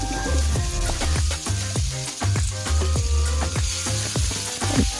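Long green chili sautéed in a pan for a hot squid stir fry sizzles and crackles steadily, with repeated scraping strokes of a spatula stirring through it.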